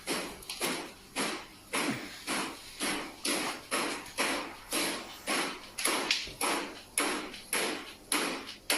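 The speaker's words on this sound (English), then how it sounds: "Soon after, a cupboard door begins to knock as well." Steady, regular knocking on a wooden cupboard door, about two knocks per second, each a sharp thud that fades quickly, going on alone without pause.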